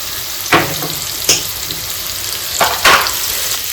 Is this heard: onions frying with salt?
yes